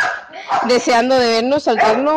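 A young dog yips and barks excitedly in short, high-pitched bursts at close range after being taken outside. A person keeps talking in Spanish over the barking.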